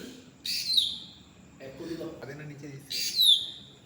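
A bird calls out at midnight outside a house, two bright descending chirping calls ringing out near the start and end, with a voice murmuring faintly between them.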